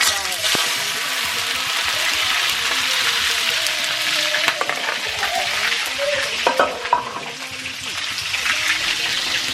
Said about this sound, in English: Okay, so I'm frying my snail now.